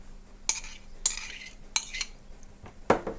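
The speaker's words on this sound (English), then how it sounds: "Just mix it up real good." Cubes of pork loin stirred into marinade and water in a dish, with sharp utensil clinks and scrapes at irregular intervals and a soft wet churning between them, close and with no voices.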